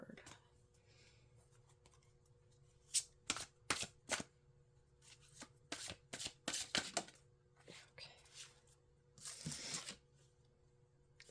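Psychic Tarot oracle cards are shuffled in short crisp bursts of riffling and snapping, several quick clusters in a row, close and fairly quiet in an otherwise still room.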